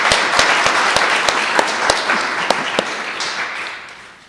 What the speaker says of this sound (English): Please give a huge round of applause to Aaron from Airbnb.